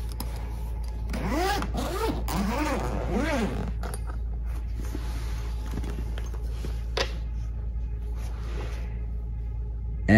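Bag zippers with locks are pulled open on a 26-inch discreet bag, giving several close, rasping zips in quick succession over a low steady hum, then quieter rustling.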